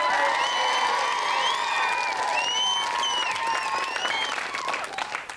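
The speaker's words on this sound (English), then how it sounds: "Take your seat and give Alan a round of applause" A game show studio audience erupts in loud applause mixed with whoops and high cheers, sustained for several seconds before easing off.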